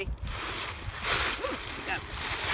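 Wind blows outdoors in a steady, rushing roar that buffets the microphone with low rumbles, and a faint voice is partly heard underneath.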